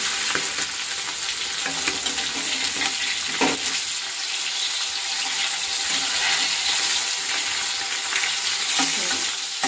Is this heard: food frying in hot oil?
yes